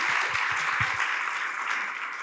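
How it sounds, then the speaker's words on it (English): Steady applause from an audience at a regional workforce education forum, dense and even clapping for about two seconds with a few low thumps at the start, fading slightly at the end. "Let's give a round of applause."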